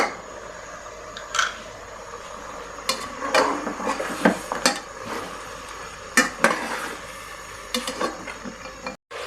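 Mutton being roasted and stirred in a pot with cinnamon and salt, irregular scraping and clinking of a spoon against the metal over a soft background sizzle, close and intermittent.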